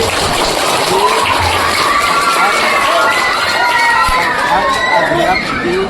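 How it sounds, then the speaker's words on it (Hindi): A crowd at a Congress party public meeting applauding and cheering, a dense, loud, continuous wash of clapping and shouting that fills the whole moment. "ताली के गड़गड़ाहटों से इनका स्वागत"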